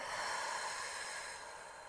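A deep, breathy exhale during a pilates breathing exercise for the deep abdominal muscles: steady close airflow that slowly tapers off, alone without speech.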